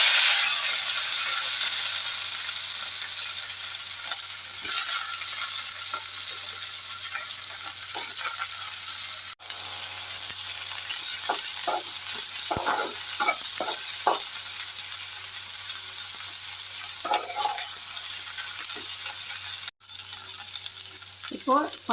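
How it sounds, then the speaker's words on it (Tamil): Broccoli frying in oil with mustard seeds in a hot pan, a continuous bright sizzle with scattered pops and crackles, close up with no talk. "கடுகு போட்டு பொரிஞ்சதும் ப்ரக்கோலி கட் பண்ணி வச்சுக்கிறது ஆட் பண்ணிக்கலாம்."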